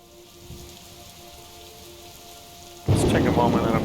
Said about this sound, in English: Let's take a moment and appreciate that rain.